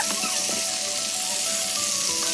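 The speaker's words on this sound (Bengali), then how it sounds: "আর এই যে কড়াইতে দিয়ে দিলাম সামান্য তেল এবং কালি জিরা ফোড়ন দিয়ে এই যে আমি সজনে ডাঁটাগুলোও দিয়ে দিলাম" Drumsticks hit hot oil with nigella seeds in a kadai, a steady bright sizzle and crackle of frying, with light clinks as the pieces settle in the pan.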